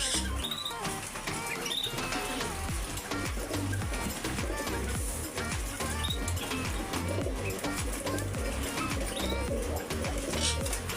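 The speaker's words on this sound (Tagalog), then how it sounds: "Kakaibang kalapati." Pigeons coo continuously in a low, throaty chorus, several birds close by with overlapping calls and a busy pet market background in Kuwait.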